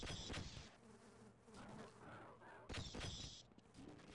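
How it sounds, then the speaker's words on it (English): Buzzing insects in the video game Half-Life swarm close by in short loud bursts, mixed with sharp crackling game effects, with no speech. "No, I know the bees are gonna get me here."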